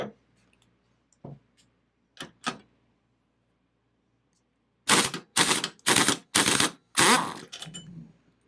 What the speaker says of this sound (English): in order to get the belt off of the pulley that's on this drive engagement mechanism, I'll be using the impact wrench there as well